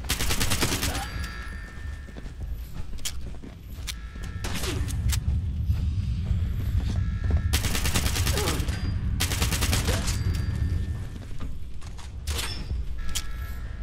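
Gunfire in the video game Fallout 76 comes in loud repeated automatic bursts and single cracks, separated by short lulls over a low background rumble, with no talking.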